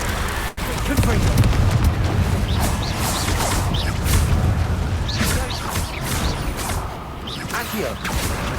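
Confringo explosive spell cast in Hogwarts Legacy, a dense stream of fiery bursts, whooshes and booms layered over busy game combat, loud and continuous with no speech.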